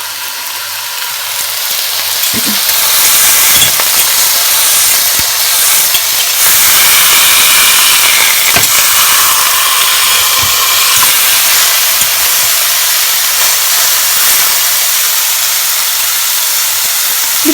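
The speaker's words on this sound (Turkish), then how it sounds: "Ve yüksek ateşte mühürleyelim iki taraflı." Lamb pieces sear fat side down over high heat in a pan, giving a loud, steady sizzle and hiss that holds throughout with faint clinks and no talk.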